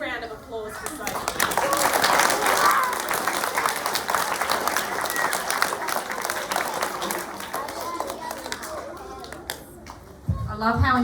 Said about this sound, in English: A big round of applause for Sophie.